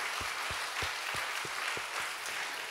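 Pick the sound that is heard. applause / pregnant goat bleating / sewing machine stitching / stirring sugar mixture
applause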